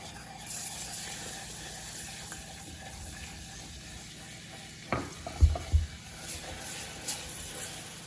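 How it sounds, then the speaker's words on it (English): Milk being stirred into Southern cream gravy in a pan, a low steady sizzle with soft scraping and liquid swirling, a few louder clunks of the utensil against the pan near the end, no talking. "So I'm going to stir in 1/4 cup of milk."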